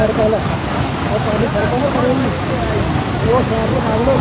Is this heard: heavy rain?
yes